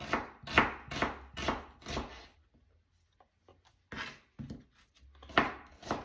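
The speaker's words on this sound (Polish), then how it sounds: "Cebulę kroję w piórka." A knife slicing half a kilogram of onion into half-moon strips on a board, with two runs of steady rhythmic chops separated by a short quiet pause, close and fairly soft.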